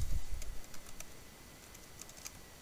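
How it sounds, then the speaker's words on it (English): Keys pressed on the keypad of a Harris FAX broadcast transmitter to enter a password, a sparse run of faint, light taps with gaps between them in a quiet room. "You just type in the letter H, then type in the password."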